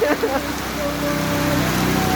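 Heavy rain pours down in a steady, loud wash on a street where tricycles and motorbikes pass, continuous throughout with a few faint knocks early on.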